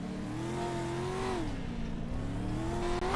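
Race car engine revving at the start of an XSLR round at Crandon, heard from inside the car as a steady droning note that dips briefly and climbs back, continuous and fairly loud.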